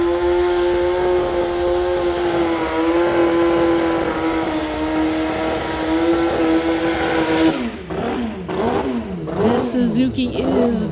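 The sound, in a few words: turbocharged 2005 Suzuki racing at street legal drag event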